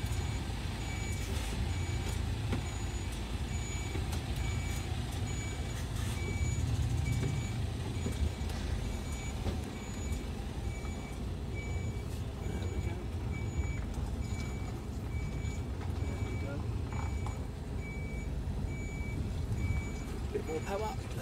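A truck reverses along a tight street in Liverpool, its steady reversing beeps repeating over a continuous diesel engine rumble and traffic noise, with a person talking throughout.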